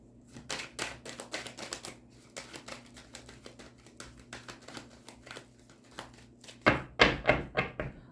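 Rider-Waite tarot deck being shuffled by hand, a string of crisp card flutters and taps close to the mic, ending in a few louder riffle bursts.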